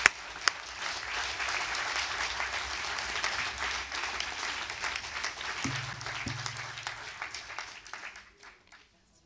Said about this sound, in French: On peut vous applaudir et vous retrouver autour du verre de l'amitié.